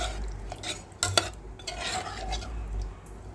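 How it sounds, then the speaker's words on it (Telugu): Bottle gourd curry with milk is stirred in a metal pot, soft close scraping swirls with a couple of sharper spoon clinks, quiet and steady. "ఒకసారి పాలు పోసిన తర్వాత ఇలా కలుపుకున్నామండి"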